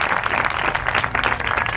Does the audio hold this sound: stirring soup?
no